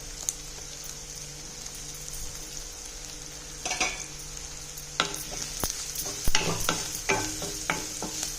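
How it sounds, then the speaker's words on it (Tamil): Oil hisses as small shallots fry with salt and turmeric, and a spoon scrapes and taps the pan in a few bursts, growing busier toward the end. "நல்லா பச்சை வாசனை போகிற வரைக்கும் வதக்கணும்"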